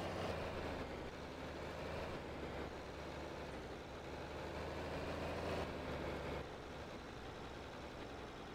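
A John Deere 4020 tractor engine in the Farming Simulator 22 video game runs at a steady low drone, loud and unbroken for the whole stretch with no talking.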